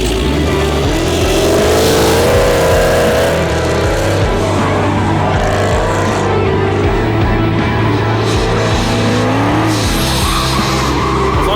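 Car engine revs hard with squealing tires during a Pony Wars race in Las Vegas, loud and close, with shifting engine pitch and skidding throughout.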